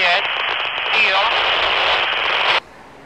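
Loud, harsh radio static hisses from a Racio R110 handheld transceiver during an urban range test, a dense continuous crackle lasting about two and a half seconds before cutting off abruptly.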